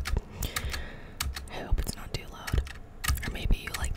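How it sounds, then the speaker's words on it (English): Close, quick keyboard typing in irregular bursts of sharp clicks, with soft breathy sounds and faint whispering mixed in. "I hope that my keyboard is not too loud."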